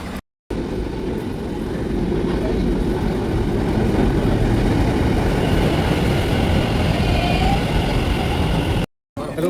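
A crowded Ahmedabad metro train gives a steady, loud rumble and rush throughout, with a faint murmur of voices mixed in and a brief drop to silence at the start and end.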